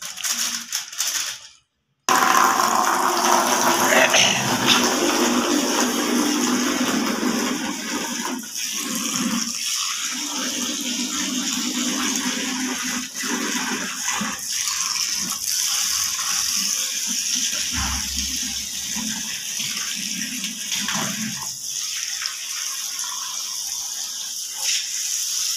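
Water gushes steadily into a bucket holding detergent powder in a shared kitchen, a continuous rushing splash with occasional knocks, close and loud for most of the run after a brief silent gap near the start.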